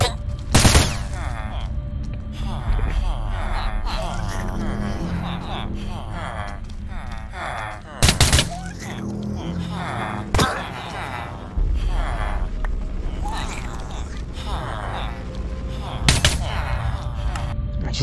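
Gunfire in Minecraft with the Scape and Run Parasites mod: several sharp, loud shots and bursts scattered over a busy game soundscape, with a person talking through much of it.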